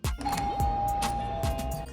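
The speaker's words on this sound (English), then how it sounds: "I love the way that doorbell sounds." An apartment building doorbell chime sounds a sustained electronic tone over busy room noise and low thumps, close and moderately loud, with no talking.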